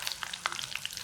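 Curry leaves, chopped green chillies, cumin, mustard seeds and asafoetida sizzling in hot oil as tempering for chivda: a steady close crackle with quick pops and spits throughout.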